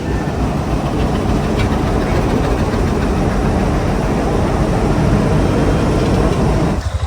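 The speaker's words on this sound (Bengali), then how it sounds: "এই তো ট্রেনের কাজ শেষ করে ট্রেন নিয়ে যাচ্ছে" A train leaves the railway workshop in Saidpur with a loud, continuous heavy rumble of engine and rolling wheels, close by and steady throughout before easing slightly at the end.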